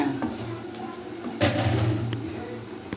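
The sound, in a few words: stirring egg, onion, green chili and turmeric in a frying pan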